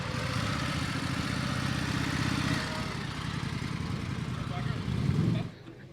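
An Indian Scout Bobber motorcycle engine running steadily at a rider fest, a mid-pitched rumble that holds even, then swells briefly before cutting down near the end.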